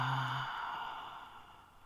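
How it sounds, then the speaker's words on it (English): A slow exhale out through the mouth after a breath in through the nose, heard close and alone, starting strong and tapering off gradually over nearly two seconds. "and breathe out."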